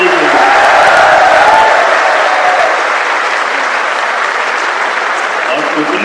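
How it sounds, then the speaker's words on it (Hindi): A crowd at a state-level political convention in Bhopal applauds steadily and loudly for several seconds, a dense sustained clapping that fades slightly toward the end. "और उतने ही जोरदार ताली श्रीमान अमित शाह जी के लिए"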